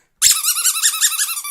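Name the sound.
squeaky pig toy squeaking, dog excited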